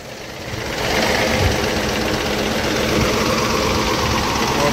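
A worn T-150 crawler tractor's SMD diesel engine, with a blown gasket leaking steam, idles steadily with a low, rough, knocking rumble, loud and close, running alone without any voices.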